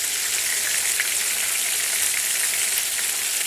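Calamari deep frying in hot oil gives a steady, close, bright sizzle and crackle that hardly varies, with no talk.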